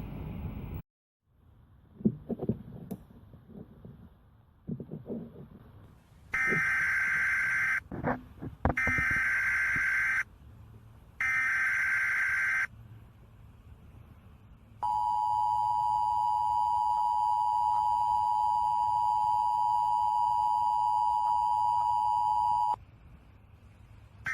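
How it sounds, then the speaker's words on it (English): Emergency alert broadcast tones come over a ham radio: static and crackle, three bursts of harsh two-tone alert signal, then a long steady high tone lasting about eight seconds, loud and alone. "This is an emergency action notification."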